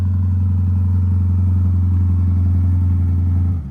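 A Corvette with a Fabspeed exhaust idles just after a cold start, a loud, steady low burble that holds evenly and then drops as the revs begin to settle near the end.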